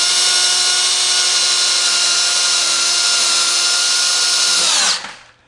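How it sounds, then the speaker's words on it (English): A power drill bores steadily through wood, a loud continuous high whine with a dense buzzing edge that holds for about five seconds and then winds down as the motor stops. "Now I'm going to back the drill up."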